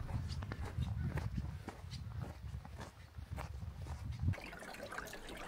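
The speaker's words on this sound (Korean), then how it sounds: "길 옆에 있는 오대천입니다." Odaecheon stream runs beside the snowy Seonjae trail at Odaesan in winter, its clear water flowing between ice; a steady, moderate wash of water sits under crunching footsteps on the path.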